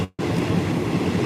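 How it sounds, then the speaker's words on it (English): A steady, loud rumble of a train to Bangkok, Thailand, rolling along the rails, heard from on board, with a brief dropout at the start before the continuous clatter resumes. "Today we're on the train to Bangkok."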